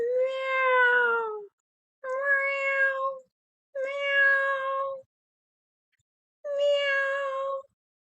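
A human voice imitating a cat, giving four drawn-out meows with short pauses between them, close and clear with no other sounds.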